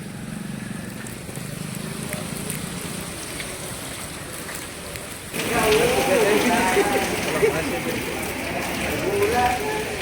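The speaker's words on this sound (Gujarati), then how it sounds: "વરસાદ ભાઈ પાંચથી છ કલાક તો એક જ ધારું ચાલુ ને ચાલુ જ છે" Steady heavy rain hisses throughout, growing louder and denser about halfway through, with faint voices underneath.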